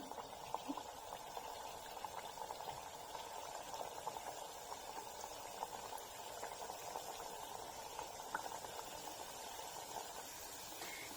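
Badusha dough balls frying in oil over medium heat give a steady, soft bubbling hiss that stays even and close throughout, with no voices.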